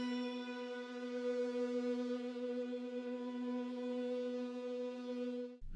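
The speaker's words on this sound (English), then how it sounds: "I have this sync hit." A sustained synth hit from an electronic track built in FL Studio, a rich bright tone held steadily for several seconds at even loudness and then cut off abruptly, with no voices.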